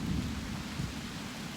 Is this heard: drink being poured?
no